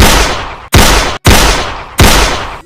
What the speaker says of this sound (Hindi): खामखा इनको गोलियां मार रहा हूँ